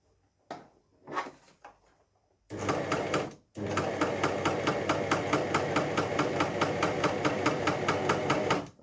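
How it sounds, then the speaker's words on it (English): Coverstitch sewing machine running a triple cover stitch, a steady rapid mechanical chatter that starts after a few short bursts and runs loud and close for about six seconds with a brief pause. "now I'm doing a triple cover stitch"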